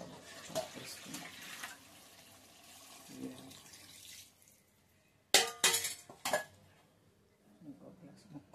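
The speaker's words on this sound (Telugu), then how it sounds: "2 గ్లాసెస్ ముక్క మునిగే వరకు వాటర్ వేయాలి" Water is poured from a glass into a bowl of mutton pieces, with soft splashing early on, a quiet lull, then several sharp, louder pours and glassy clinks near the end.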